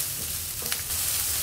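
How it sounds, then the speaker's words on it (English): Onion, garlic, ginger and curry leaves fry in hot coconut oil for a squid roast, giving a brief, steady, close sizzle with no talking. "Fry this nicely till the onion turns golden brown."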